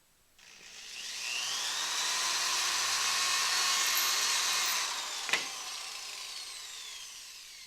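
A power drill bores into the center of a small wooden peg or post. One steady whirring run lasts several seconds and ends with a short bump, close and alone with no talk.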